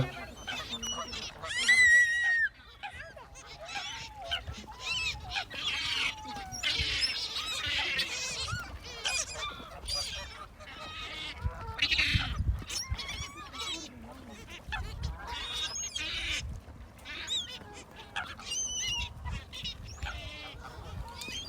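Geese and several kinds of ducks honk and call at Alexandra Lake, a busy chorus of repeated honks and squawks near and far, with occasional talk underneath.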